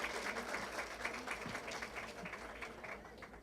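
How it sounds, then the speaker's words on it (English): Applause at a school parent volunteer awards ceremony: steady, dense clapping from an audience in a hall, continuous and fairly even throughout with a faint murmur of voices underneath. "Round of applause for them"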